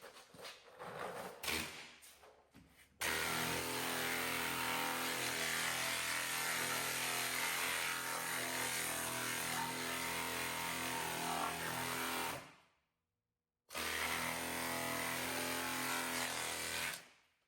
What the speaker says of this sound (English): I probably could use a rougher sandpaper though to go faster at this.